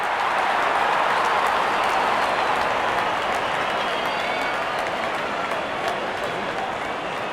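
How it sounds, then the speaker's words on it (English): Cricket crowd cheering a wicket at a Mumbai Indians versus Gujarat Titans match, a loud sustained wash of cheering and applause that holds steady throughout without commentary. "And there comes the celebration and the crowd loves it."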